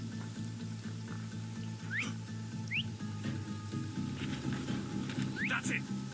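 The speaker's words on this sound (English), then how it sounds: "Your whistling stops right now!" Whistling in Assassin's Creed Odyssey: two or three short rising whistle notes stand out over a steady droning game ambience with low music, each brief and fairly distinct.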